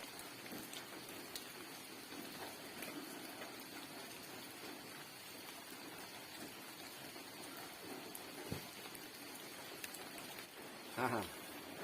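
Steady rain patters and hisses in the background over fields, a continuous soft wash of sound with a couple of brief knocks near the end.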